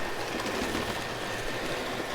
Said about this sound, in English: Now we got 3 trains going.